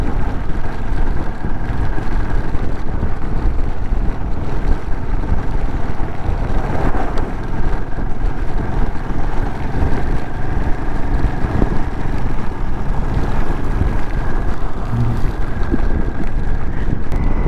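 Heavy wind rushing over the microphone during a monsoon ride on a Himalayan 450 motorcycle, a loud, continuous roaring buffet with engine and road rumble beneath, no voices.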